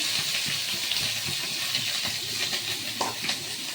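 Boiled vegetables stirred in hot oil in a pan with bay leaf, clove and cinnamon make a loud, close sizzle and hiss, with a spoon scraping and shuffling throughout.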